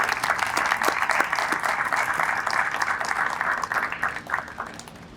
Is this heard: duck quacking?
no